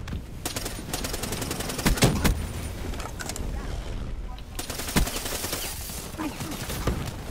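Gunfire from the Razorback weapon in Call of Duty, rapid automatic bursts with sharp shots cracking through dense continuous game noise, loud and close, with a voice talking over parts of it.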